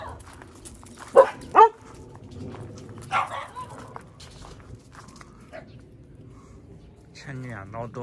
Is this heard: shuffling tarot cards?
no